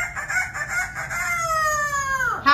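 A parrot mimics a rooster's crow, a long drawn-out call with a falling pitch at the end, loud and close, with no other sounds.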